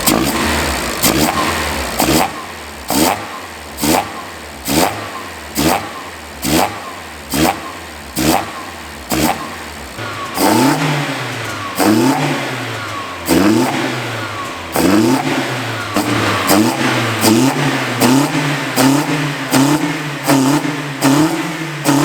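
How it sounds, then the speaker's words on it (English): A 1989 Eunos Roadster (MX-5 Miata) engine with individual throttle bodies is blipped in a long run of sharp, rapid revs, each snapping up and falling back, then several longer sustained revs rising and dropping, loud and close. "it wouldn't be right for me to make a video about an individual throttle body car and not insert some nice, clean, sharp revs"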